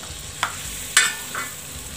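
Red Kashmiri chili and sesame seeds stirred into pav bhaji in a pan, with a steady low sizzle and two or three brief scraping knocks of the spoon against the pan.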